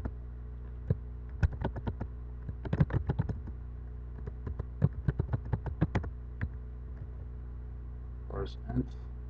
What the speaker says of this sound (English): the second thing I'm going to type in is the start port range